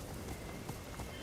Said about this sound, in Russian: то дождь собирается или что